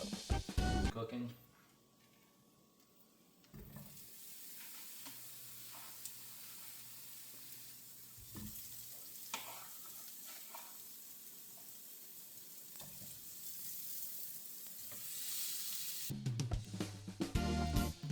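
Food sizzling in a pan during home cooking, a steady frying hiss running through most of the stretch at moderate level, with brief clatters and louder bursts near the start and end.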